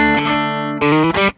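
Electric guitar with a new P90 pickup on a 2023 Gibson Billie Joe Armstrong model, picked softly through a distorted amp: a sustained chord ringing out, then two quick re-struck chords close together.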